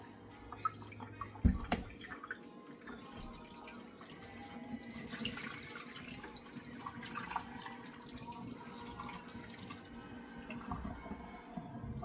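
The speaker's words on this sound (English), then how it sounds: "I'm gonna throw this water off. So let me put this in here so all this little meats don't go down in there, so you can strain it through." Water poured off raw chicken breast through a strainer into a kitchen sink: a sharp knock, then steady splashing and trickling water running for several seconds, close and moderately loud.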